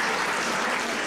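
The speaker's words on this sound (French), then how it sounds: "merci pour vos applaudissements" Concert audience applause at a winter concert by a wind band, with choir and youth orchestra also on stage; a brief, dense burst of clapping fills the hall.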